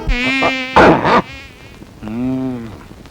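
Buzzing mosquitoes in a comedy scene, heard as thin, high, whining tones that come in bursts, with a brief noisy flurry midway and a wavering drone near the end.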